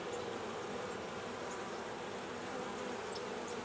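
Honey bees buzzing in an opened hive, a dense, continuous close drone of many insects at an even level.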